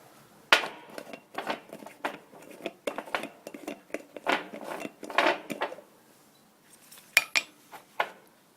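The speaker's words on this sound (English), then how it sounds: "So I'll just take the lid off." Lid taken off a container of carbonized banana, a close series of small clicks, taps and light scraping handling noises, irregular and fairly quiet, with a couple of sharper clacks.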